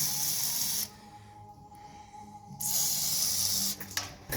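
Liquid Muscle penetrating oil sprayed onto seized bolts in the engine bay of a supercharged 871 blower Chrysler Cordoba, two steady hissing bursts close up, split by a short pause, with a faint steady tone underneath.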